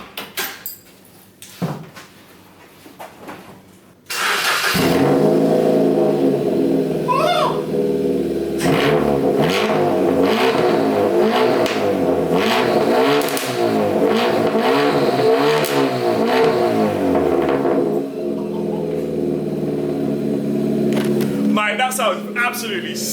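A Ford Fiesta MK6 with its exhaust back box removed starts up loud and raw, then revs repeatedly in throaty rising and falling surges, with people talking over it.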